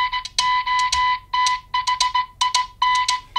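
A Nothing Phone (1) sounds a strident alarm in quick bursts of shrill electronic beeps, grouped in short rhythmic clusters with brief gaps between them, close and alone.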